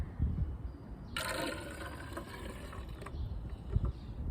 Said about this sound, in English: I'm gonna pour it in here and see what we get.